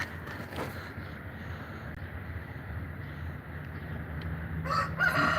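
Backyard chickens and a rooster in a coop, with clucking and a crow against a constant hiss of outdoor noise, fairly faint and distant, growing a little louder near the end, with no talking.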